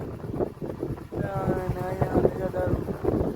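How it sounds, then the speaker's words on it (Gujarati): Steady gusty wind roars across a farm field and buffets the microphone, with voices talking faintly underneath. "વાડીએ ને વાડી હે જોરદારનો પવન એ જોઈ લે"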